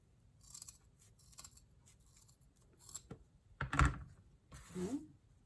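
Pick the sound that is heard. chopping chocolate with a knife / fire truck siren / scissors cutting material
scissors cutting material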